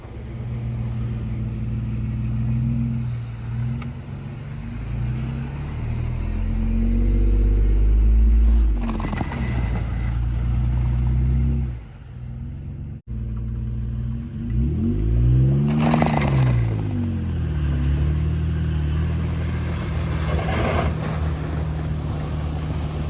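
A Ford F350 truck stuck for a day gets pulled out with a Yankum kinetic rope off-road; an engine drones and revs hard, surging loudly mid-way, dropping off briefly, then rising again, with wind buffeting the microphone.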